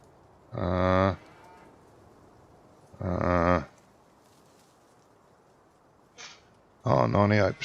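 Cattle in Farming Simulator 19 give three long, loud moos spaced a few seconds apart, with a short faint call between the last two and quiet in the gaps.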